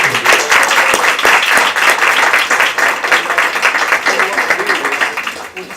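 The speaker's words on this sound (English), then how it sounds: "If we could give these ladies a big round of applause." An audience at a county board of education meeting gives a group of women a round of applause, with dense, close clapping that swells and then tapers off toward the end, while some voices murmur underneath.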